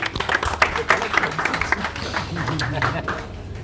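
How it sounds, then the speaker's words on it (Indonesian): Audience at a Persebaya jersey talk session applauds a guest, a moderate crowd clapping steadily under an announcer's voice and ambient room chatter. "Tepuk tangan buat Mas Riki."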